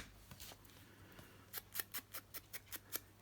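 Scissors trimming excess paper in a craft project, about eight crisp close snips in a quick even rhythm after a few softer early cuts, faint hum underneath and no voices.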